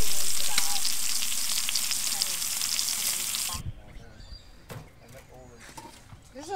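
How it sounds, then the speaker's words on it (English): Lamb chops frying in a pan with beans and butter at a campsite, a bright hissing sizzle that cuts off abruptly partway, followed by faint crackle under someone talking. "Got the lamb in the pan along with some beans and butter."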